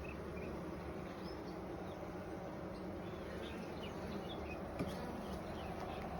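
A busy beehive hums steadily and loudly during an inspection, the dense drone of many bees continuous and close throughout, with no talk.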